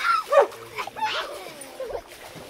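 A dog keeping watch over a backyard pool whimpers and yips in thin, rising and falling whines, close by, with people talking over it.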